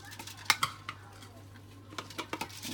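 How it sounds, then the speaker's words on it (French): A spoon scoops and taps three tablespoons of powder into a dish for a homemade skin-tone treatment, giving a few sharp close clinks against the container with softer scraping between them. "Donc, je vais ajouter 3 cuillères à soupe."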